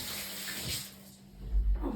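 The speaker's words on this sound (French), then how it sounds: "je me rince les mains" A tap runs while hands are rinsed under it, a steady close watery hiss with a splashing swell near the end.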